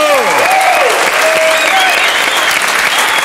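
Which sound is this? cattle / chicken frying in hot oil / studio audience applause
studio audience applause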